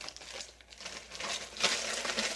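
The plastic wrapper of a Nestle strawberry shortcake crunch bar crinkles and rustles up close, in irregular bursts that grow louder toward the end.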